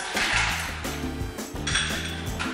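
Ice cubes clink and rattle into a measuring cup, a steady run of hard, close clattering that lasts the whole clip with no talking.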